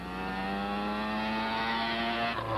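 A 1978 Mazda RX-7 rotary-engined race car pulls away from an autocross start line, a loud, steady engine drone with a rising pitch that carries through, then drops off near the end.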